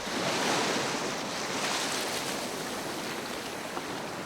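Ocean surf washes steadily over rocky tide pools at high tide, a continuous broad rushing roar with some wind, no voices.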